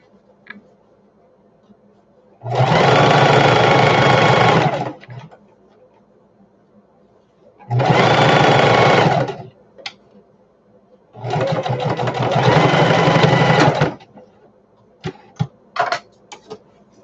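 A sewing machine stitches a shoulder bag panel in three separate runs of steady, rapid needle clatter, each lasting a couple of seconds, separated by quiet pauses and light handling clicks.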